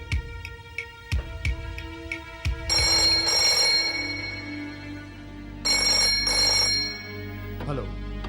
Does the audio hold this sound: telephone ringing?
yes